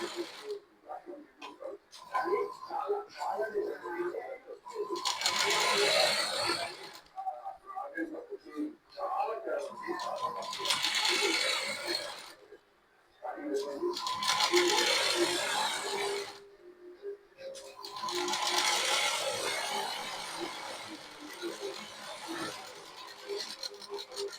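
A sewing machine stitches piping onto the back of a blouse in several separate bursts of rapid mechanical clatter, with a voice talking in the pauses between runs.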